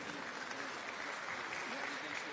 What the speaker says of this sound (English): Let's give another round of applause to the honorable guests of the ceremony